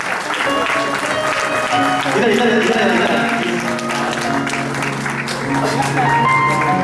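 Audience applause at a stage tribute concert honouring a ghazal singer: loud, sustained clapping from a crowd, with a voice speaking and some music mixed in.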